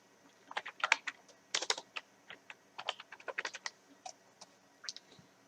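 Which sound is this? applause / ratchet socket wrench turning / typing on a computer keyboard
typing on a computer keyboard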